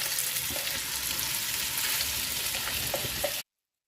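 Egg and fish sizzling steadily in roughly 50 ml of hot oil for a fish pudimas dish, a dense continuous crackle with occasional louder pops and a stir, close up with no talking, cutting off abruptly near the end.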